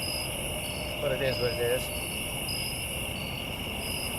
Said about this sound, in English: listening to the crickets in the highway